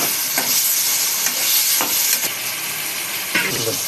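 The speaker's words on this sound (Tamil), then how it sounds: "ஒரு அஞ்சு நிமிஷம் நல்லா வசங்கணும்" Tomatoes sautéing in a pan for Chettinad mutton gravy make a continuous, close sizzle, with periodic scraping sweeps of a spoon stirring through the mixture and no voices.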